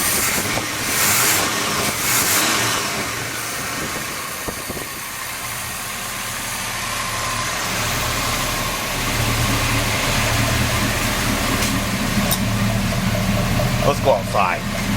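A heavy big-block V8 engine swapped into a dually pickup truck rumbles steadily at close range with a deep low-end throb, while people talk over it throughout.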